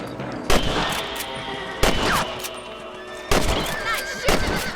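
Rifle shots ring out in Red Dead Redemption during a rabbit hunt, four sharp broadband cracks spaced unevenly over a busy outdoor game soundscape with a horse whinnying nearby.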